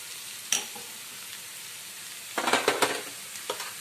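Spice paste frying with onions in a pan for a chicken ghee roast, a low continuous sizzle broken by a sharp spatula knock and a loud burst of crackling and stirring scrapes near the end.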